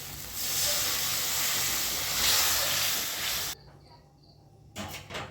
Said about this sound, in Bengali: মশলাটা আমার ভালো করে কষানো হয়ে গেছে এবার আমি জল দিয়ে দিচ্ছি